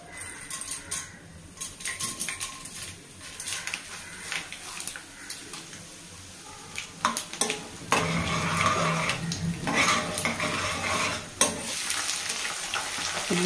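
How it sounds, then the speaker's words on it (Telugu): Tempering seeds sizzle and crackle in hot oil in a pan for fried rice with fenugreek leaves, a steady close hiss with scattered pops and brief stirring clinks that grows louder and denser partway through. "ఆయిల్ హీటెక్కి తాలింపు గింజలు వేస్తున్నాను."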